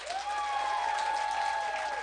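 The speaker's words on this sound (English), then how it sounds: "one more final round of applause for our artists." An audience at a book festival applauds the artists, a dense sustained burst of clapping from a nearby crowd lasting a couple of seconds, with a faint voice briefly audible over it.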